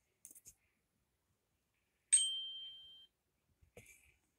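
Tink notification tone on a Meta Quest 3: a short clean metallic ping that rings for about a second, bracketed by faint clicks before and after in otherwise silent surroundings.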